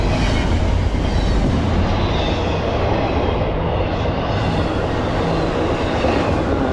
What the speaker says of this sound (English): 122 axles, 49 miles an hour. The fifth train of the morning.